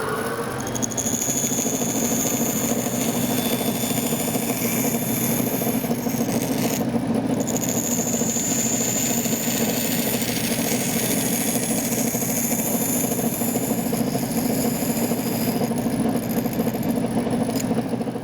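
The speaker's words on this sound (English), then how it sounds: "we're going to the bandsaw and make a cut in there" A bandsaw cuts into wood for a wooden pendant in a woodworking shop, a loud, continuous droning hum that holds steady throughout with no voices.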